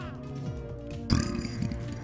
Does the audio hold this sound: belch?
yes